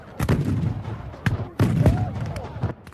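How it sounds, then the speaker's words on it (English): Civil War artillery in a Gettysburg battle game fires four heavy booms in quick succession, each a sharp blast trailing into a rumbling tail, loud and close. "The Southern artillery opens up on the Union line."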